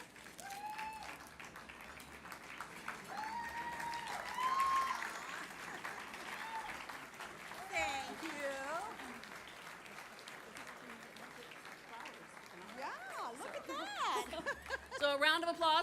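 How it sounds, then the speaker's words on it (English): An audience at an awards ceremony gives a long, even round of applause for Diane, with a host's voice talking and scattered chuckles over the steady clapping. "So a round of applause for Diane"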